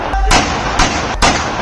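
Three sharp gunshots ring out in a street at night, loud, evenly spaced bangs with echoing tails, captured from a distance in a reverberant outdoor setting.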